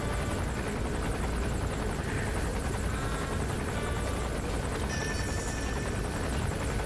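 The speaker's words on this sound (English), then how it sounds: "There's a chopper landing." A helicopter lands in Metal Gear Solid V: The Phantom Pain, its rotor chop a steady, loud, dense drone that fills the whole stretch without letup.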